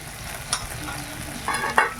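Potatoes and onions fry with a freshly ground chili, mustard and cumin paste, loud close sizzling broken by quick stirring scrapes and a couple of sharp clatters near the end.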